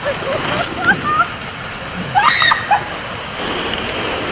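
Broadband rushing water from a river below a slippery crossing path in Zakarpattia, steady and fairly loud throughout, with brief splashy accents and a few faint voices over the flow.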